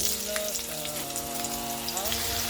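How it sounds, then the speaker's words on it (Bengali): Diced kohlrabi fries in oil in a wok, giving a constant close sizzle with light crackle over a low background hum, no voices. "ওলকপিটাকে বেশ ভালো করে ভাজা ভাজা করে নিতে হবে।"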